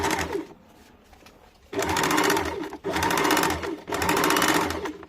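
A sewing machine stitches a kurti neckline in three bursts of rapid, whirring needle clatter, close and loud, separated by short pauses and a quieter stretch at the start.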